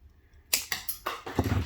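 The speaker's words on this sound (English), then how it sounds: "And then you want to use your edge cutter to cut the wire." Edge cutters snip bracelet wire close up, a sharp click followed by a quick run of small clicking and rattling sounds, with no talking.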